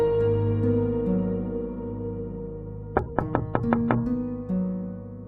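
A fist raps on a door about seven times in a quick, even burst, sharp and close, over sustained background music.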